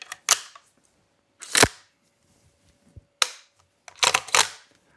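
Handling of a Strasser RS14 Evolution hunting rifle with its magazine being inserted, a series of sharp metallic clicks and clacks in separate bursts, close and crisp with quiet gaps between.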